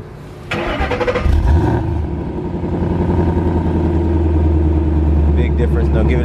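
A 2011-2014 Ford Mustang GT with an X-Force active exhaust cranks and fires at about half a second, flaring briefly before settling into a deep, steady idle rumble close by.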